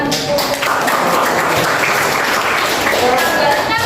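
A classroom gives a round of applause during a lesson on the bombing of Hiroshima and Nagasaki, a dense, steady clatter of many hands clapping together throughout, close and loud, with some voices mixed in.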